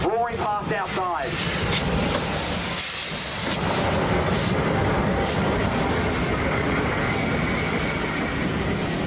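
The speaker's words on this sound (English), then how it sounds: "see the steam train roaring past outside" A steam locomotive moves off at a railway workshops open day, a loud, steady hiss of steam and rumble filling the scene throughout after a brief burst of voices at the start.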